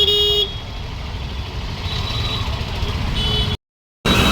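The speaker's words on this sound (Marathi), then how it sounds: "पण ट्रॅफिक आहे" Busy road traffic on a crowded street in Mumbai's Ghatkopar area, with a steady rumble of vehicles and a horn toot at the start and another near the end, close by, broken by a brief silent gap.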